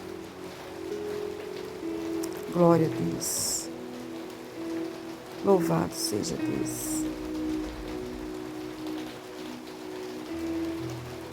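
Steady rain falls in the predawn night, a continuous soft hiss throughout, while a voice speaks prayerfully over it at times.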